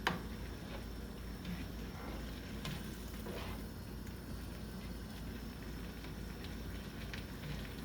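A pot of chorizo and rice bubbling at a boil, a faint, steady bubbling and sizzling texture with small ticks and pops running evenly throughout, quiet and unaccompanied by speech.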